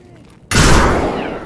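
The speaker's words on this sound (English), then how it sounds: "I'm shooting." Gunfire erupts abruptly in Escape from Tarkov, a loud close burst that follows a quiet moment and then rings out and fades with a long reverberant tail.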